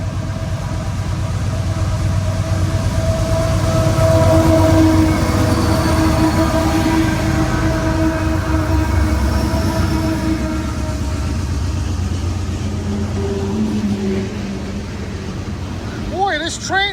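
A train rumbles past up close, loud and steady, with rhythmic clatter of the wheels over the rails and a squeal near the end.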